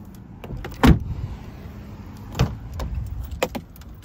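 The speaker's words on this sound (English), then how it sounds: "I will open the gate in the back." Rear gate of a 2020 Jeep Wrangler being opened up close: a few sharp latch clunks and rattles spaced over about four seconds, with no voices.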